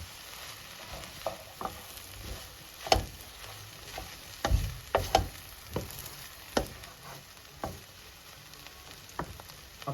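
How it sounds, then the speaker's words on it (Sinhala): Chopped roti tossed and stir-fried in a pan for cheese kottu, with bursts of scraping and clattering over a steady sizzle in an irregular rhythm, close up and with no voices. "දැන් අපි කපාගත්තු රොටි ටික මේ ලෝල් ටිකට එකතු කරනවා"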